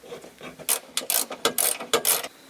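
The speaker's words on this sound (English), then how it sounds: "we're going to put the other 2 bolts in, tighten everything up" A ratchet tightens the seat rail bolts in a car's passenger compartment, sounding as several quick bursts of rapid clicking, one burst per stroke, close and clear with no voices.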